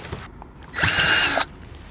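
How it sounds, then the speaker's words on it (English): A power drill whirs in one short burst of under a second, loud and close, with quieter clicks and handling noise before and after. "giving us our mark indexes to drill some holes and put some bolts through"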